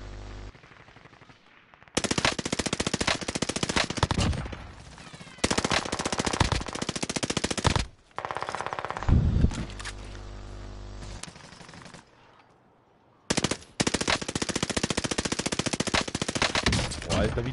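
Automatic weapon fire in the video game Warzone comes in several long, loud sustained bursts of rapid shots, separated by short pauses and quieter stretches.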